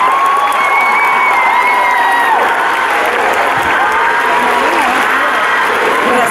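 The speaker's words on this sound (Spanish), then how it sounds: "Por favor, un fuertísimo aplauso para todos." Audience at an Operación Triunfo concert event in Pineda de Mar applauds loudly and steadily, a dense crowd of clapping with some cheering, continuous throughout.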